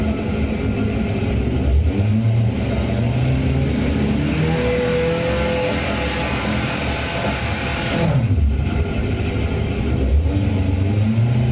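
A Toyota Tundra engine in Gran Turismo 7 revs and accelerates, mid-pitched and continuous, rising and falling through gear changes over steady rumbling road noise.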